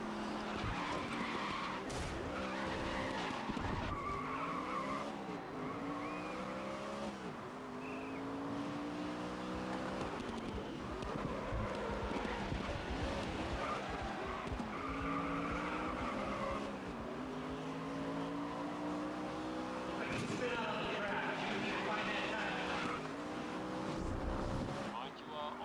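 Race cars in the video game GRID skid and squeal their tires through corners, with engines constantly rising and falling in pitch. The dense racing noise stays loud for the whole stretch.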